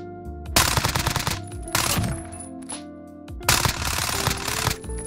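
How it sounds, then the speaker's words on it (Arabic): Bursts of rapid automatic fire from a Fennec submachine gun in Call of Duty, three dense volleys separated by short pauses, loud and close, with clinking casings and mechanical clatter between bursts. "الحين راح اوريكم الفنك مع تعديلاتي لونج رينج"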